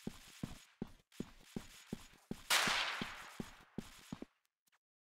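Gunfire from Freeman Guerrilla Warfare comes in a fast series of sharp, evenly spaced shots. A brief hissy burst rises partway through, then the shooting breaks off into near silence.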